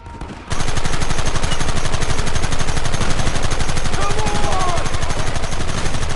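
Gunfire in Red Dead Redemption, a sudden start into sustained, rapid machine-gun-like bursts that continue without pause, very loud and close, with shouted voices faintly mixed in.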